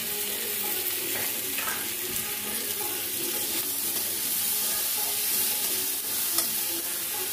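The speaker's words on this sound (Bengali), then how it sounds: "এবার এই সেদ্ধ ছোলাটা দিয়ে দিচ্ছি।" Boiled chickpeas tipped into banana flower frying in a pan with potato for a vegetarian mocha dish; steady close sizzling and stirring scrapes run throughout, with a faint watery trickle underneath.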